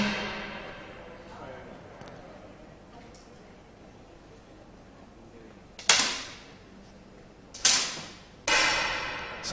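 10m air pistol shots fired in a women's SH1 para shooting final at the 2022 WSPS World Championships in Al Ain, three sharp, close cracks spaced a second or two apart, each fading quickly, over quiet hall ambience with a commentator speaking.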